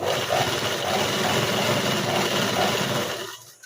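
A sewing machine stitches pant fabric for a cigar-style trouser: a continuous, loud, even mechanical whir with rapid needle rhythm that runs steadily and then cuts off abruptly at the end.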